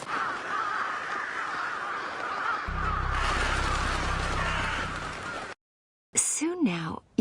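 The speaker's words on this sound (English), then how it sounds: "Look at the crow" A crow caws in the Naruto Shippuden anime, a few harsh, rising calls near the end that follow a loud stretch of rushing noise and a brief silence, with a voice also present.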